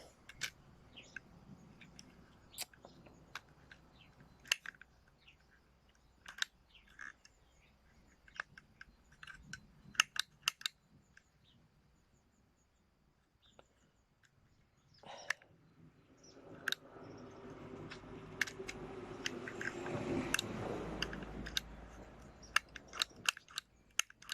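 Sharp snipping clicks of scissors repeat irregularly, closing on nothing much, over a low hum; a broader rustling swell builds partway through.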